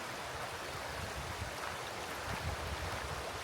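A river flowing nearby, a faint steady rushing wash of water heard alone in an outdoor setting by a historic mill.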